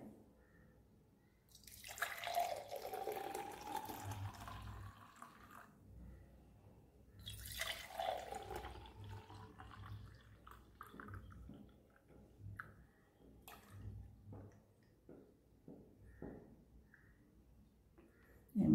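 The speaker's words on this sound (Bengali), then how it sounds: "এর মধ্যে একটু জল মিশিয়ে দেব।" Water poured into strained homemade beetroot juice, a liquid trickle and splash rising in two bursts, near and moderately loud, with drips and light handling sounds between them.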